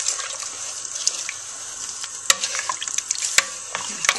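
Dark soy sauce and sugar are stirred in a hot pan for a Korean beef stew, giving a continuous soft sizzle with scattered scraping clicks and clinks from the utensil, close and fairly quiet, with no voices.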